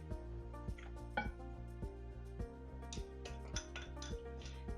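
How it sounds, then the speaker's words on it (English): Three medium eggs beaten in a mixing bowl for carrot cake, a quick regular clinking rhythm of a utensil striking the bowl over a steady background of tonal music, without speech. "3 medium eggs, just roughly beat them together"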